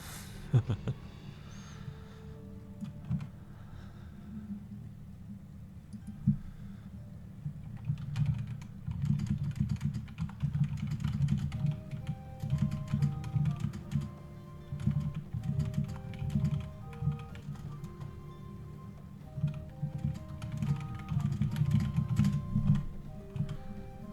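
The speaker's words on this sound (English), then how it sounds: "Sorry, I was typing in Discord" Rapid computer keyboard typing for a Discord message, steady clicks close up, running continuously over a low background hum with sparse tonal game music notes.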